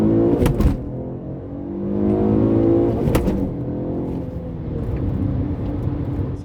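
A 2002 Alfa Romeo 156 GTA accelerates hard from 0 to 100 km/h, its engine revving up through the gears with sharp gear-change breaks, loud and close from inside the car.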